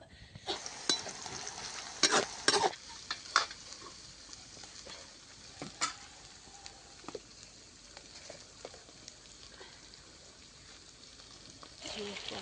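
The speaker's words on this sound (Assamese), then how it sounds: "এতিয়া আকৌ তেল দিছো এফালে আলুখিনি ভাজি থৈ দিলো।" Potato pieces frying in oil in a pan, heard as scattered crackles and sharp pops over a low background hiss; the spitting is busiest in the first few seconds, then thins to occasional pops.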